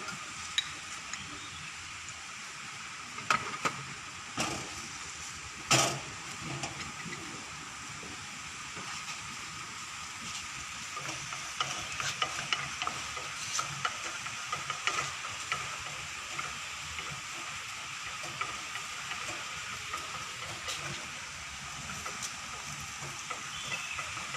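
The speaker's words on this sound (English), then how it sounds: "Now almost garlic is getting roasted" Garlic roasting in hot oil with spluttered jeera and mustard seeds in a home kitchen: a steady, quiet hiss of sizzling runs throughout, with occasional soft pops and light stirring clicks, no voices.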